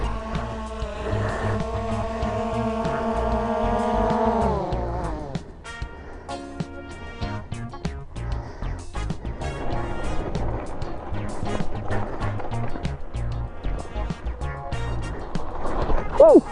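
A Talaria MX4 electric dirt bike fitted with JFG Racing bars whines up in pitch as it pulls away, then the ride continues with rushing wind, rattling and varying motor whine.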